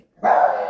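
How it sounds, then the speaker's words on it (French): A small dog gives one short, loud, sharp bark close by after a brief silence. "Désolée pour le petit chien."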